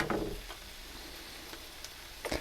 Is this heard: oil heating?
yes